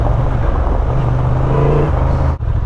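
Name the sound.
Honda Transalp 2025 motorcycle engine chugging in second gear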